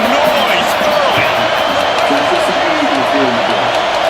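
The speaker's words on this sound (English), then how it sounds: "This crowd bringing the energy and noise early." Loud, dense stadium crowd roar in a college football video game, a steady wall of cheering and yelling that holds constant from start to finish with no break.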